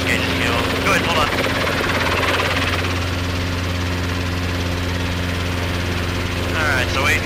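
Robinson R22 helicopter in flight during a training session, a loud steady rotor and engine drone with a constant low thrum, heard close from inside the cabin, with voices faintly over it.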